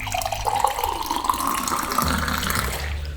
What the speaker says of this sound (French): Allez, je mets de l'eau.